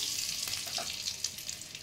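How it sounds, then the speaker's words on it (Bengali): Hot oil sizzles steadily with soft crackles as whole garam masala spices fry for a pointed gourd dish, close and continuous, with no talking. "গরম মশলাটা একটু ভাজা ভাজা হবে।"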